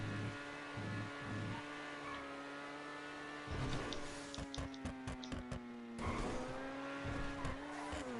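Race car in GTA V Online stunt racing, its engine note dipping as the brakes are dabbed through a corner, with bursts of tire squeal and skidding under a steady engine whine and no talking.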